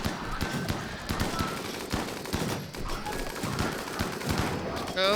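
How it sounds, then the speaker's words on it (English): Vaporizer cannons firing in the RimWorld video game, with rapid, repeated sharp blasts and bursts packed densely across the whole stretch and a louder crackling burst at the very end. "those vaporizer cannons are gonna like make an absolute mess"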